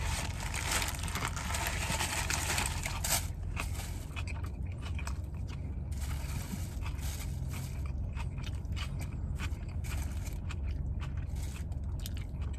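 Someone bites and crunches through a turkey sandwich on bread packed with red onion, tomato, bell and banana peppers, pickles, olive oil and vinegar, giving close, repeated crisp chewing and scraping over steady low room noise.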